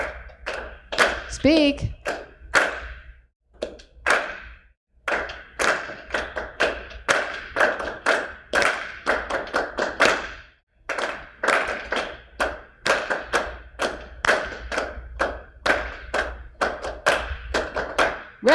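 Students in a university musicianship class clap a rhythm together while speaking rhythm syllables aloud, producing many sharp, evenly spaced claps in a steady pattern with brief pauses, close and moderately loud under their chanting voices.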